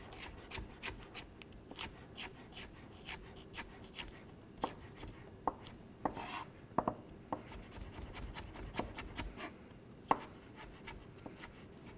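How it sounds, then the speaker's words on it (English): A knife julienning vegetables into thin strips for potato leek soup in a culinary school kitchen, sharp quick chops tapping on a cutting board in an irregular run, close and crisp, with no talking. "julienne is a cut where you cut fruits or vegetables into strips"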